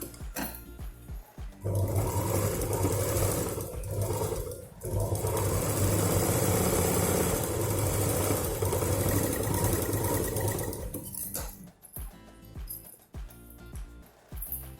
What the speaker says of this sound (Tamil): இங்கே இங்கே வரைக்கும் ஒரு தடவை தையல் போட்டு எடுத்துடலாம்.